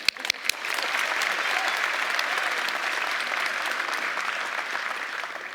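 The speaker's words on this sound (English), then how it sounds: "we'll give her a clap" Applause for an award winner at a school prize giving, starting with a few sharp claps that quickly swell into steady, full crowd clapping lasting to the end.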